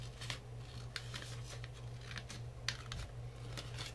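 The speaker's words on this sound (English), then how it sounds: "you're going to cut down this middle line here to the middle score line" Scissors cut a paper card down its middle line toward a score line, a steady series of light, crisp snips over a low background hum.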